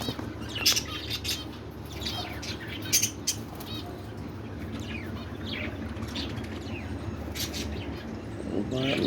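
Pet budgies flutter and give short, sharp chirps in scattered bursts inside their enclosure, close by over a steady background hum.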